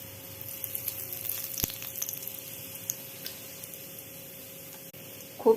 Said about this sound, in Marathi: थोडेसे तेलामध्ये जिरे टाकून घेऊया.